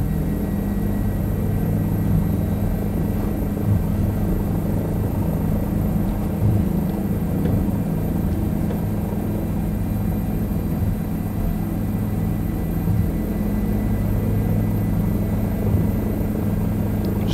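A small aircraft's engine drones steadily in flight on the downwind leg at about 100 knots, a loud, constant low rumble with a propeller hum filling the whole stretch.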